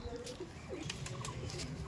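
Domestic pigeons, including a cargo-type breed, cooing softly in a home loft, low murmuring calls with light fluttery patter around them.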